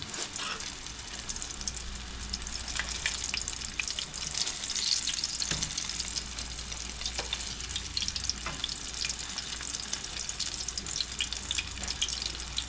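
Fish seasoned with Old Bay fries in a pan with a steady, close sizzle and crackle, a few sharper pops rising through the continuous hiss.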